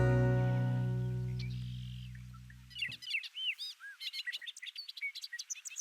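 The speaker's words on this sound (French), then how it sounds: "Il y a beaucoup d'oiseaux champêtres magnifiques qu'on peut observer ici." Countryside birds chirp and sing in a lively stream of quick, bright calls and trills, starting after a loud low droning sound fades out.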